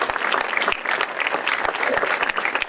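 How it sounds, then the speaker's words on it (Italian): Applause for event volunteers at a civic gathering, a dense, steady clapping from a crowd lasting the whole moment without a break. "fare ancora un grandissimo applauso a loro"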